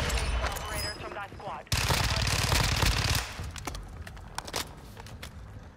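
Fennec 45 submachine gun firing in Warzone 2, rapid loud automatic bursts with dense cracking shots, then scattered sharper single reports, with game noise around them.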